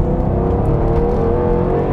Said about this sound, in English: I'm gonna put my foot down, see if the car can take it.